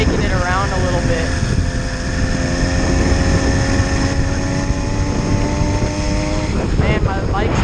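A light motorcycle rides along a country road, its engine note rising and falling under loud, constant wind roar, heard close and continuously throughout.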